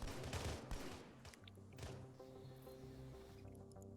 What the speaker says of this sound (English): These guys probably hear that gunfire and know they need to keep away.